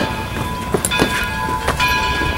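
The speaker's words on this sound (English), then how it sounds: "let's see if the train's coming." A train draws near at Greenfield Village, a steady rolling rumble with faint clanks and a few brief squeals, fairly close and continuous with no talking.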